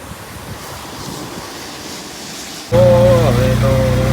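Wind and light rain gusting outdoors give a steady rough rush for several seconds; then a louder, steady droning tone abruptly takes over.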